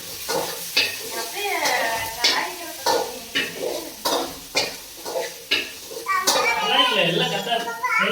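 Tomatoes added to a pan and fried for Tamil fish kulambu, a sizzle with repeated stirring scrapes in a steady rhythm while someone talks over it.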